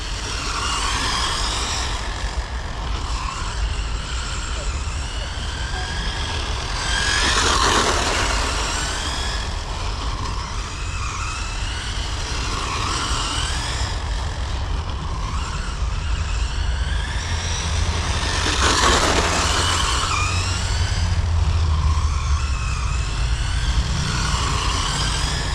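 A Traxxas Corvette RC car accelerates around a track, its steady whirring motor swelling as the car passes close, with two louder passes standing out amid continuous engine whine.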